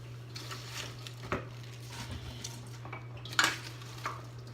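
Vegetables are layered over onions in a pot for a vegan Bavarian Pichelsteiner stew, giving quiet soft thuds and a few sharper utensil clinks against the pot over a low, steady background hum.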